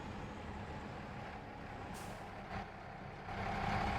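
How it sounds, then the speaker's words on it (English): A truck backing up a trailer on a farm in Farming Simulator 22, with a steady low engine drone and a brief hiss of air brakes partway through, the engine rising slightly toward the end. "Now I'm just going to back this trailer up."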